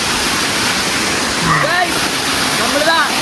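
Poolakund waterfall roars loud and close, a broad, constant rush of falling water, with people's voices faintly audible beneath it.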